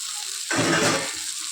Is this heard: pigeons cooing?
no